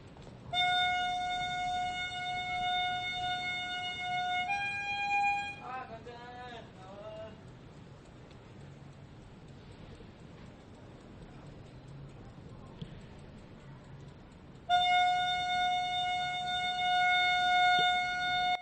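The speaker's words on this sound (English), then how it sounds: "When Japanese people hear this sound, some may grab a pot and go out to buy some tofu. This is an old-style tofu seller." An old-style Japanese tofu seller's horn blows a steady, sustained tonal call, then falls silent through a quiet stretch with a brief voice-like wavering sound, and the horn call returns loud and near at the end.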